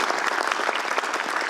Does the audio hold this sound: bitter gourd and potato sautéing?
no